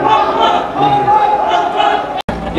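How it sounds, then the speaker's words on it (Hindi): Dense roar of a large crowd of Kanwar Yatra pilgrims at a temple beside the Delhi–Haridwar highway, a constant loud wash of many voices and chanting, with a brief dropout near the end. "ये देखिए आप देख रहे हैं मंदिर, ये कितनी भीड़ हो रही है"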